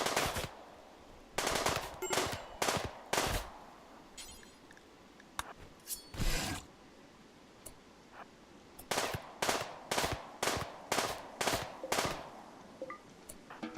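Rapid bursts of video-game gunfire from RimWorld, clustered volleys of sharp automatic shots with short pauses between groups, loud and close, with no talking.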